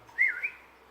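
A pet bird named Cloudy gives a short whistle, one bright rising note with a quick second chirp, nearby and fairly soft in a quiet room.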